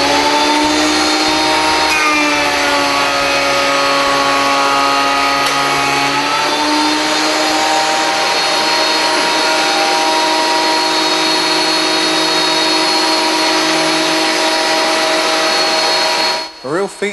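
An Axminster CT330 330mm thicknesser planes a piece of iroko timber, its steady high-pitched whine and rumble running loud and continuous for most of the span before cutting off near the end.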